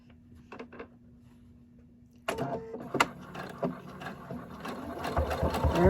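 Sewing machine stitching a seam through thick layers of fleece for a hat, a few faint taps and then a steady, close mechanical whir that grows louder toward the end.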